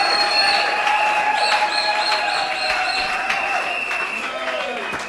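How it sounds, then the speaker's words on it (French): A church congregation applauds and cheers in a sustained, dense burst of clapping and voices that stays loud for several seconds, then slowly tapers off toward the end. "Oh, que quelqu'un acclame Jésus."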